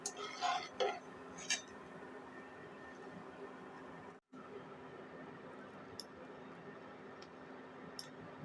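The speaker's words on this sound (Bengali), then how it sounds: "এভাবে করে আমি সবগুলো ঝুরি ভাজা ভেজে নেব" Jhuri bhaja frying in a pan gives a steady, moderate hiss, with a few light metallic clinks of a utensil near the start and a short break in the middle.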